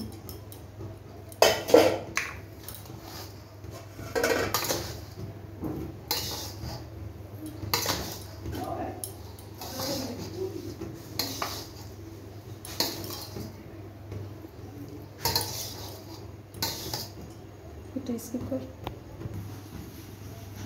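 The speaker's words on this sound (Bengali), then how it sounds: "এবারে আমি সবজিগুলোকে মিক্স করব।" Stirring and mixing vegetables for fried rice in a pan, with irregular metallic scrapes and clinks of a utensil against the pan scattered through, under a soft voice talking.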